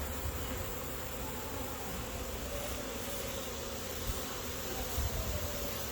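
Honeybees being shaken off frames into a hive, a dense continuous buzzing swarm that stays loud and steady throughout, with a few soft bumps near the end.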